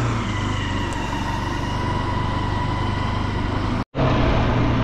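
Steady engine drone of a car driving along a rural road in the Satpuda range of Nandurbar, heard from inside the vehicle with constant loud road and motor noise and a brief dropout near the end.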